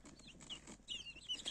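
Young chicks hatched in an incubator during power outages in winter, a few high peeping cheeps close by with faint clucking underneath, no talk.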